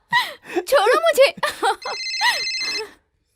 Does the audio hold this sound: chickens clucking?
no